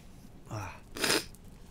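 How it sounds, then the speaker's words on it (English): A stifled sneeze comes as two muffled bursts, a softer catch and then a stronger suppressed puff, close and brief against a quiet room. "I repressed the sneeze."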